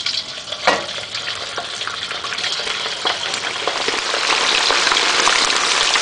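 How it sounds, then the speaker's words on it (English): Shrimp dropped into hot oil for a spicy stir fry, loud continuous sizzling and crackling that swells and grows denser over several seconds, with a sharp pop near the start. "once the oil is hot, we can go ahead and add in our shrimp"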